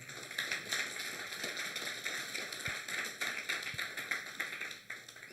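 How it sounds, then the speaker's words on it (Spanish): A church congregation claps in praise of Christ, a busy patter of many hands at a fairly faint level, fluttering and uneven with a couple of louder thumps. "Dale un fuerte aplauso a Cristo"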